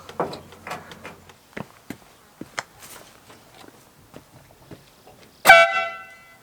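Scattered clanks and light knocking lead up to a sudden loud blast of an air horn newly installed on a cab-over work truck, brief and close.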